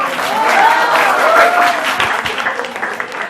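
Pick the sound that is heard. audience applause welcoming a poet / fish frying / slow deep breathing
audience applause welcoming a poet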